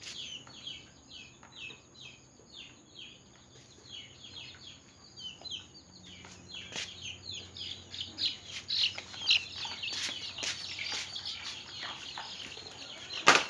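Young nursery chicks being dosed with Newcastle disease vaccine chirp and cluck in a steady stream of short, high peeping calls, fairly close, with faint handling noise and rustling building toward the end.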